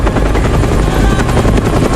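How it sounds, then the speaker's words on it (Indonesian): Helicopter landing on an island in Costa Rica in a film scene, its rotor thudding in a loud, steady, close pulse with a dense engine whine, continuous and unbroken. "Film dibuka dengan memperlihatkan sebuah helikopter yang mendarat di suatu pulau di Costa Rica."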